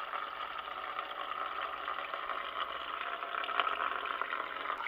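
Water hisses steadily as it runs through a refrigerator water line. The rushing sound is faint and constant, with no talk over it.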